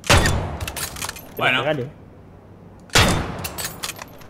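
Two loud hunting rifle shots, an L96, from the zombie game Dead Island 2 ring out about three seconds apart, each with a sharp crack and a brief rattling tail, while someone speaks briefly in Spanish between them.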